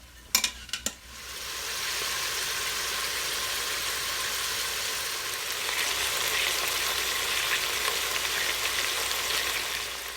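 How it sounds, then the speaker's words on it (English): Meat browning in an Instant Pot for a pot roast gives a steady, broadband sizzle that starts after a couple of sharp clicks and holds even throughout, with no talking. "we're gonna brown all the meat and then remove it from the pot"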